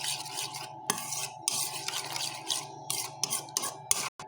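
A spoon works through potato salad dressed with tahini sauce. The stirring scrapes and rubs in quick, uneven strokes, with a few clinks against the bowl, close and alone with no talking.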